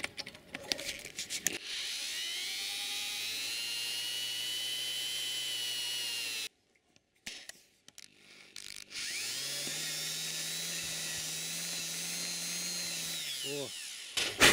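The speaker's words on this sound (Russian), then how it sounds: "О, и теперь сверлим дальше." A power drill bores out a broken stud, its high whine running steadily in two long bursts separated by a short pause and some handling clatter, close and fairly loud with no talking.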